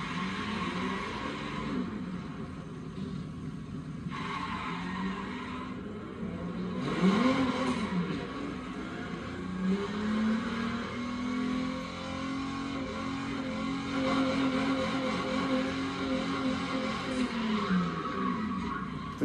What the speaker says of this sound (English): if you reverse, it'll still spin the tires